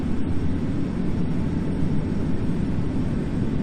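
Airliner taking off in Microsoft Flight Simulator X, a steady loud engine roar with heavy low rumble holding constant throughout, no talk.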